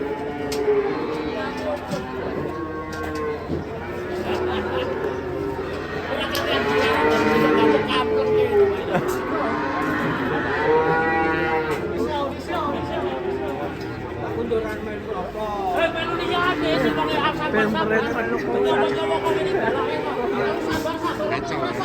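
Cattle moo repeatedly, long low calls overlapping one another, with people chattering in the background throughout.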